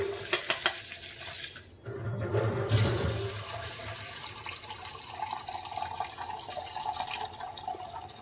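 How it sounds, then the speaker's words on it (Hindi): Water runs into a kitchen container of mung dal set to soak for breakfast, a steady splashing flow with a bright, bubbly hiss that shifts in tone as the vessel fills. "इसमें भर देते हैं थोड़ा सा पानी।"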